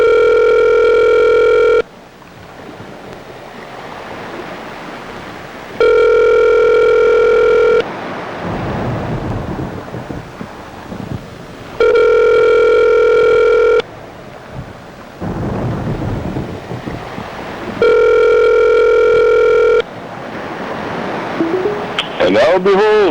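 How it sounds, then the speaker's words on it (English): A cell phone ringback tone sounds in four evenly spaced, loud two-second bursts, each followed by roughly four seconds of quieter line noise and crackle. "We're gonna call Dan's cell phone."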